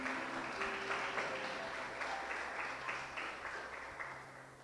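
Congregation applause at an evangelical church service, fairly distant clapping with sustained tones from instruments or a keyboard underneath, gradually fading toward the end.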